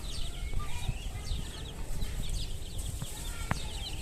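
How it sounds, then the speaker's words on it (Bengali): A crested hen clucks repeatedly nearby amid other farmyard bird chatter, with a low rumbling background throughout. "এই যে দেখেন মাশাআল্লাহ ঝুটিয়ালা মুরগিটা"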